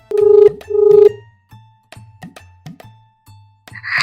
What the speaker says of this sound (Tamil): இப்போ ஃபோன் பண்ண சிவாக்கு ஃபோன் பண்ணும் போத